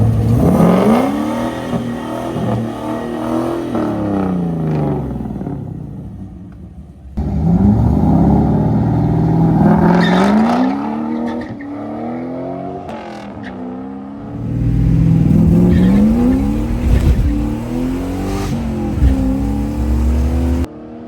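A drag race car at the Carolina Drag Cruise launches and accelerates down the strip, its engine climbing through loud, rising revs in three separate pulls, each roaring up before cutting off, with no talking.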